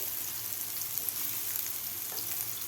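Soybeans fry in a pan over a medium gas flame, giving a faint, even hiss of sizzling oil with a few light taps from stirring, close but quiet.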